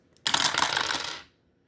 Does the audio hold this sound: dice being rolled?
yes